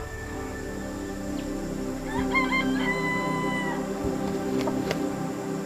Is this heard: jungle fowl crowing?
yes